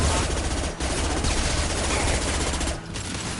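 Continuous rapid gunfire from a Mass Effect 2 battle, loud and dense with brief gaps, other combat noise layered in.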